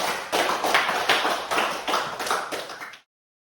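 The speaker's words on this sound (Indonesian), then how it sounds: "Tepuk tangan buat kalian, luar biasa." Classroom students clap together in a loud, fast burst of overlapping hand claps with slight rhythmic pulses, sustained for about three seconds before stopping abruptly into silence.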